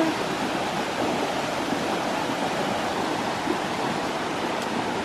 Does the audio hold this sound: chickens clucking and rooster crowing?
no